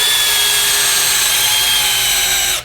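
A power drill spins a RotoScrub scrubbing attachment on a Velcro pad, a loud steady high whine with a continuous grinding hiss, running alone for under three seconds before winding down.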